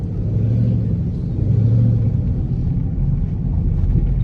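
A Chrysler 300C fitted with a Corsa exhaust rumbles close by, a deep, steady, loud drone with slight swells in intensity and no talking.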